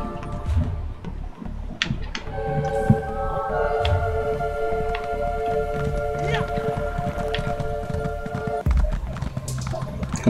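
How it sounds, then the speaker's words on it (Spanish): Hooves of a white horse clip-clop in a quick galloping rhythm in The Elder Scrolls Online, mixed with game music tones and an occasional neigh or tap. "Con mi caballo blanco voy por el mundo."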